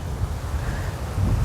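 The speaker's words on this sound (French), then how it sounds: "Il y a beaucoup de vent" Strong wind on the coast of Mauritius buffets the microphone in a steady, dense rush with low gusty rumbling and no break.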